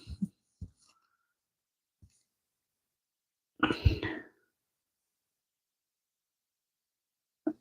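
A single sharp sneeze bursts out in an otherwise quiet room, close and brief, surrounded by a few small isolated clicks and breaths.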